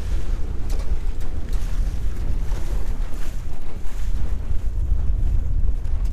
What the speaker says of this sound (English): we're getting a little more wind, so it's gonna be fun